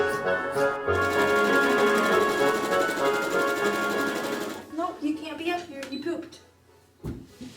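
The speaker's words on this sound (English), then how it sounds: "for this one I'm doing a zigzag stitch because it's sheer" Sewing machine running steadily while zigzag-stitching the hem of a sheer skirt, a dense continuous mechanical whir for several seconds, then stopping and giving way to fabric handling and scattered clicks.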